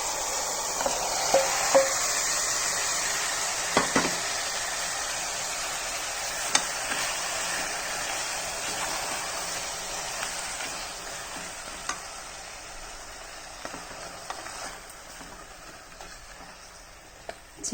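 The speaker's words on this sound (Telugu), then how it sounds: "దీంట్లో నానబెట్టిన చికెన్ వేసేసుకున్నాము." Soaked chicken frying in a pot sizzles continuously, with intermittent sharp clicks and scrapes from stirring over the steady crackle.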